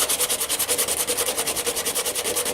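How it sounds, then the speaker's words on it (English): Rhythmic back-and-forth sanding scrapes across melted polypropylene plastic, a close, even rasping with regular strokes several times a second, heard alone. "sand this down too, because this also needs to be sanded"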